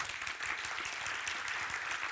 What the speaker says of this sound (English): a big round of applause for Cristián